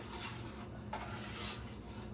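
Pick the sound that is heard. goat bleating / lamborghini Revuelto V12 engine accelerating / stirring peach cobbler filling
stirring peach cobbler filling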